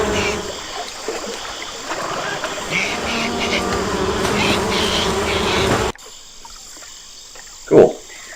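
A dense, steady buzzing of wasps fills most of the clip, then cuts off abruptly, leaving a quieter background and one brief louder burst near the end, in the video game Amerzone: The Explorer's Legacy.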